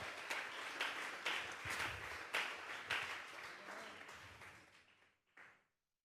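A church congregation claps as an offering of praise, a lively burst of many hands with rhythmic accents that gradually thins out and fades, ending with a few last claps.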